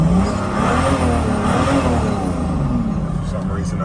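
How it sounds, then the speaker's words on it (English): A Mercedes-Benz 300TE engine revs steadily close by, its drone holding throughout the short stretch with no quiet gaps. "for some reason I could build boost by just revving"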